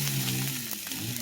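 Hibachi fried rice sizzles steadily in a hot pan beside a cooked egg, a continuous close crackle and hiss with faint stirring, and no talk.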